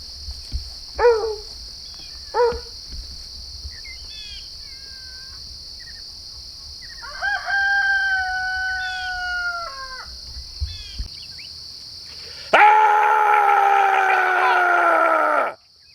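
A rooster crows loudly and close for about three seconds near the end, after scattered quieter calls and bursts, with a steady high whine running underneath.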